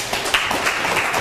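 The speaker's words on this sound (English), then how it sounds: "You can applaud." Audience at a county commissioners' forum applauding, a dense steady patter of many hands filling the room, close and moderately loud with no talk over it.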